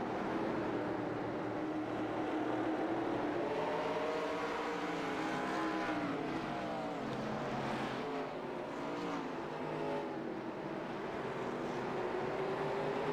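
Race cars lapping North Wilkesboro speedway in a short-track series race, a dense continuous roar of several engines with rising and falling pitch sweeps as the cars pass, loud and sustained without talk.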